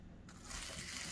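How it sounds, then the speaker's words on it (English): Water gushes from a tap into a bowl to soak sago for a Samoan banana pudding, starting abruptly and pouring steadily and close for about a second. "you put it in a container or a bowl and soak it with water"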